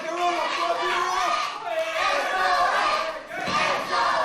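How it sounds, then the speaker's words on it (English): A wrestling crowd at an Irish Whip Wrestling show roars steadily for the whole stretch. The noise is loud and sustained, with shouting and cheering that swells and dips briefly near the end. "the crowd once again getting solidly behind Sheamus O'Shaunessy here"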